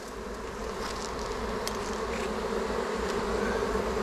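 Honey bees buzz steadily around an open hive while a queen excluder is being fitted, a dense continuous drone of many insects close by with no talking.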